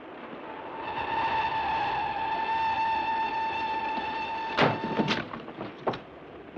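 A 1940-era train running, a steady mechanical hum with a sustained tonal whine for several seconds, then a few sharp knocking clunks near the end, moderately near.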